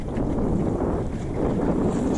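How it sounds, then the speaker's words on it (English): Breeze while sailing a Welsford Navigator dinghy on cold water, heard as a steady low rushing wind buffeting close to the microphone, with faint water and hull noise beneath and no voices. "Just caught a nice breeze now, so just making a couple of knots."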